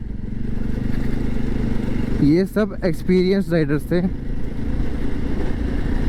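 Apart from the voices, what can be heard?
motorcycles riding in Jibhi, Himachal Pradesh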